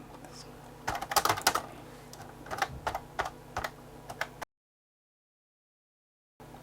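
Fingers type on a repaired AlphaSmart 3000 keyboard with some stiff keys, close uneven bursts of plastic key clicks over a faint hum, then the sound cuts out briefly.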